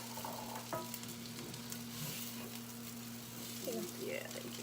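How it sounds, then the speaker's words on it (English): Black beans with sweet potato and onion being stirred in a hot skillet, a soft steady sizzle with scraping stirs, quiet and close, with a voice briefly present. "So black beans go in the skillet. All goes in there together. Gonna mix that around."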